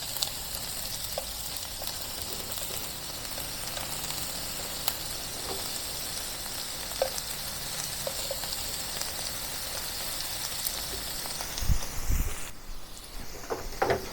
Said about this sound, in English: Shrimp cook pretty fast, so within a minute, I'm going to turn it to the other side.